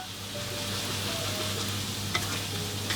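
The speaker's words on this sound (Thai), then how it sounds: "ทีนี้เราก็ใส่ตัวกระเทียมของเราลงไปเลยครับ เสร็จแล้ว ก็เจียวกระเทียมไปเรื่อยๆเลยครับ" Garlic frying in a generous amount of hot oil for noodle topping, a steady close sizzle with occasional stirring clinks, no voices.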